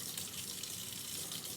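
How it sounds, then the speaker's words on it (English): Warm water runs steadily from a tap into a bowl for hand-washing pots and pans, a continuous close gushing hiss with no break and no talking. "So you would add warmer water"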